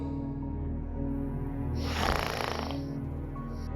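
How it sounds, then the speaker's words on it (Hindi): A man snores loudly and close, one long rasping inhale that swells into a harsh rattling peak before fading, over a steady background hum and with no talking. "ये तो खर्राटे लेता है।"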